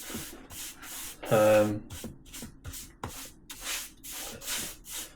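A sander works over painted wooden DIY shelving in short rhythmic bursts, close and fairly loud, with one brief louder scrape early on.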